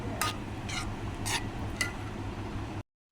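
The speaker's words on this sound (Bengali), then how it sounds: "সব কিছু ভালো করে মিশিয়ে নিব" A sweet milk mixture stirred in a pan, four short scraping strokes of a spoon against the metal over a faint background hum, close and quiet, ending in silence.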